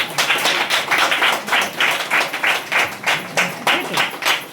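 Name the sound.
congregation clapping loudly at a church service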